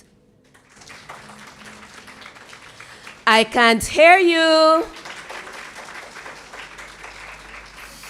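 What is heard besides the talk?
applause for graduating nursing students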